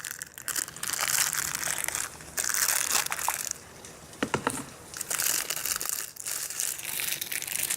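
Crinkling and crunching of packaging being torn open around a Schrade SCHF57 fixed blade knife, in irregular bursts with brief pauses, close and fairly loud.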